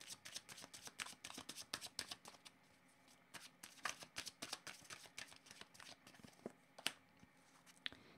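Tarot cards being shuffled and drawn by hand, a rapid run of crisp riffling flicks and slaps, close and quiet, with brief pauses between bursts and no talking.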